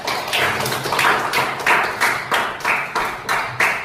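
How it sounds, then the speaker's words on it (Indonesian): Students in an Indonesian mathematics classroom clap together in a regular rhythmic beat, about three crisp claps per second. The group claps in unison, close and fairly loud, with each clap landing sharply and no speech over it. "Ya, tepuk tangan dulu untuk semua kelompok."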